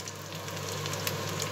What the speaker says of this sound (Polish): Tak to wygląda, jak się smaży.